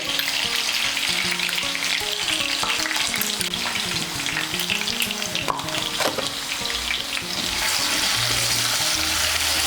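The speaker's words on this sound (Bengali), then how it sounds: "মিশিয়ে নিয়ে আলুগুলোকে ভেজে নেব।" Potato pieces seasoned with salt and turmeric fry loudly in hot oil, giving a steady, dense sizzle with stirring scrapes that runs the whole way through.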